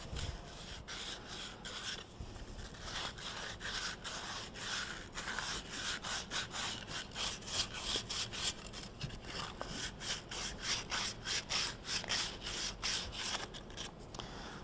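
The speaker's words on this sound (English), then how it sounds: "Back and forth with the sandpaper, inside and out, until it's free of all sharp edges" Sandpaper worked back and forth on the edge of a flanged lightening hole: close, quiet, rhythmic rasping strokes that repeat steadily with no talk.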